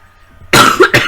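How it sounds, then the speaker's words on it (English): A cough breaks the quiet, a harsh burst followed by a second shorter cough, close and loud with no talking. "That sounded really bad. Coughing."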